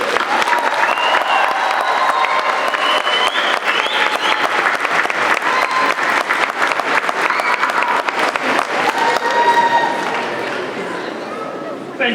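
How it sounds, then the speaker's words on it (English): A large convocation crowd applauds and cheers for graduates. The clapping is dense and loud and continuous with shouts mixed in, and it fades slightly at the very end. "Give them a big cheer."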